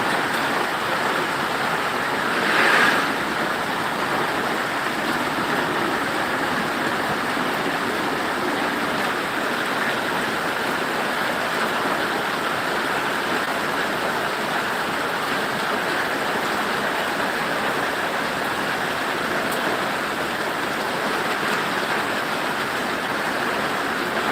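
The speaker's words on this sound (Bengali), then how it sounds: "প্রচুর বৃষ্টি হচ্ছে প্রচুর" Steady, dense rushing heavy rain with light wind holds evenly throughout, a continuous broadband wash with no voices and one brief brighter burst near the start, in Sirajganj, Bangladesh.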